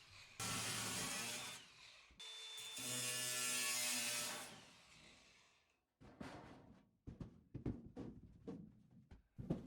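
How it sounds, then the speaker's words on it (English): Angle grinder with a cutoff wheel cutting through a wooden box during shed construction: two long, loud bursts of harsh grinding and whirring, then a series of short choppy cuts and knocks. "A cutoff wheel on an angle grinder was then used to cut the box."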